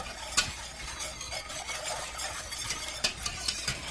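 A cornstarch mixture is stirred in a cooking pot with a soft, continuous scraping swirl and a few sharper clinks of the utensil against the pot, quiet and close with no talking.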